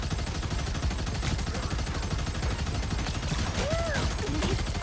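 The Punisher's deployed turret in Marvel Rivals fires a steady, rapid hammering stream of automatic gunfire for several seconds, loud and unbroken, with a brief whooshing effect partway through.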